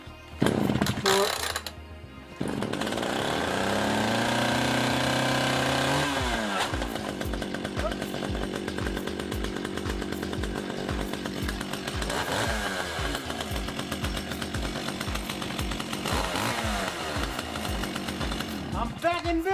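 An Echo chainsaw engine with a repaired pull cord sputters and catches after a pull, then runs loudly and close with a rough two-stroke idle and several throttle revs rising and falling; a voice speaks briefly.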